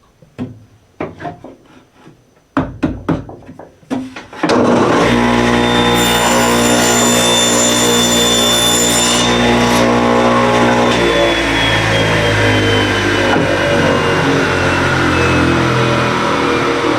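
A saw cuts across a wooden board for a holiday woodworking project, a loud, continuous whining drone that starts after a few knocks and handling sounds, with the blade's tone shifting slightly partway through.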